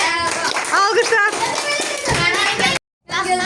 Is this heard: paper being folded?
no